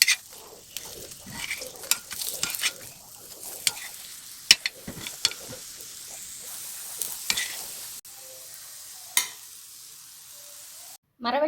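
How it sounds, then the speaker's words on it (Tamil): Tapioca cutlets fry in hot oil in a pan, a close, continuous crackling sizzle broken by stirring and scraping strokes, then a quieter bubbling stretch near the end with a few pops. "ரெண்டு பக்கமுமே நல்லா கோல்டன் ஃப்ரை ஆயிடுச்சு."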